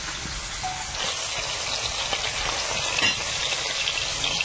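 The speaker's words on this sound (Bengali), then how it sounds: "মাছটা ভাজা হয়ে গেছে, মাছটা তুলে নেব।" Freshly caught fish fries in a pan with a dense, close sizzle and crackle. Light stirring scrapes sit under it, and there is no speech.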